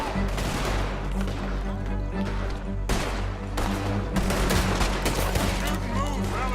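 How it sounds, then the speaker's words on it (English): Close, loud gunfire fills a Red Dead Redemption 2 shootout in Saint Denis, with repeated sharp shots and volleys cracking over a dense battle din throughout. "Shoot and move, fellas!"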